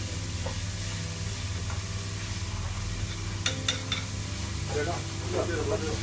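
Onions frying in coconut oil in a pan for Kerala-style spicy chicken curry, a steady sizzle under a constant low hum, with a few scraping stirs and clinks partway through.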